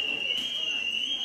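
A steady high-pitched electronic shop alarm tone sounds continuously inside an Action store, shrill and unbroken, with faint background noise around it.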